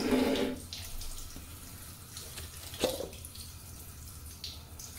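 Running water from a shower splashes steadily, with a brief louder burst at the start and a sharp clink partway through, no talking.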